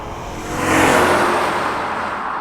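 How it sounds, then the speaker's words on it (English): A 2002 Lexus SC430 V8 accelerating hard at full throttle, its engine note swelling into a loud, steady surge that holds for a couple of seconds. "Forcing the accelerator pedal to the floor yields a very satisfying surge of speed."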